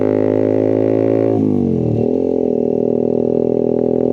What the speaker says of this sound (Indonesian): Mohon maaf ya kalau suara knalpotnya ganggu.